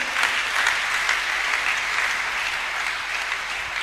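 A church congregation breaks into sustained applause, a dense, steady wash of many hands clapping that fills the room evenly for several seconds.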